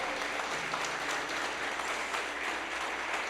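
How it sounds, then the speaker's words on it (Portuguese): A church congregation applauds steadily, a dense, even wash of clapping at moderate volume with no talk over it. "Aplauda o Senhor."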